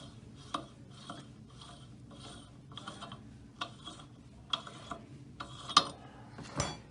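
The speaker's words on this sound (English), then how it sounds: "Now we'll remove the nut." A lock nut on an SKF split bearing housing is turned off with a repeated ratcheting rhythm, roughly eleven quiet metallic clicks that grow slightly louder toward the end, with no talk.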